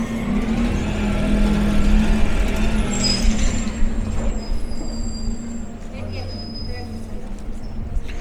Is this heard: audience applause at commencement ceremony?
no